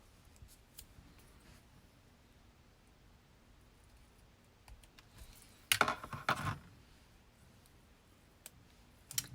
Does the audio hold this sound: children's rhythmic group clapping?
no